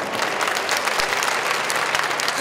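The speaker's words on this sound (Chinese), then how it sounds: "是不是大家来鼓掌一下好不好？" Audience applause at a Taipei Marathon launch event, dense steady clapping from a crowd filling the whole moment, loud and close, with no talk over it.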